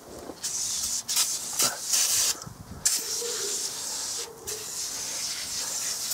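Cleaning foam fizzes and hisses on the paintwork of a Volkswagen Golf after being sprayed, a loud, close, steady crackling hiss with a few brief surges and dips, no voices.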